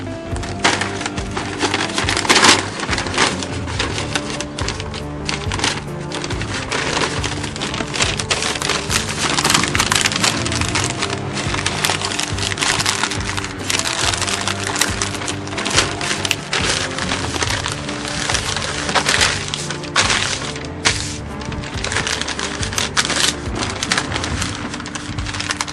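Butcher paper is folded and wrapped around a large smoked brisket using two sheets, a continuous loud crinkling and crackling with sharp rustles, close up and steady, with no talking.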